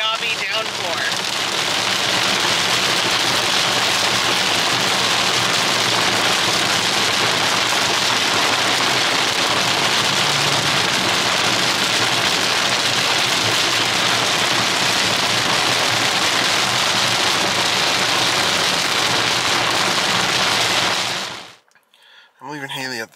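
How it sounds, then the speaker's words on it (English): Torrential downpour of rain on Oahu Point, South Island, New Zealand, a dense, steady roar of heavy rainfall lasting about 21 seconds before cutting out abruptly. "It's like a torrential giant gobby downpour."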